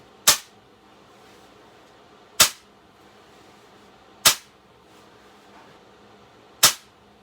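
A Crosman 760 air rifle fires pellets with four sharp, isolated cracks spaced about two seconds apart, close and clear against a quiet outdoor background.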